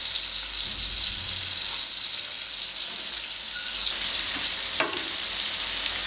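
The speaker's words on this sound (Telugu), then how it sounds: "ఈ విధంగా ఇటువైపు అటువైపు టర్న్ చేస్తూ క్రిస్పీగా వచ్చేంత వరకు ఫ్రై చేయాలి." Fish fries in a pan of oil while being turned side to side until crisp, giving a loud, dense, unbroken sizzle up close, with one brief clink of the turner and no voices.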